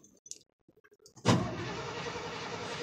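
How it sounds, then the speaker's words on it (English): A 1984 GMC 3500 engine cranking on a cold start after sitting 14 hours, preceded by soft clicks and rustles, then a sudden loud, steady, close grinding crank that runs continuously to the end. "we're going to have to sit here and crank this engine for God knows how long just to get it to start"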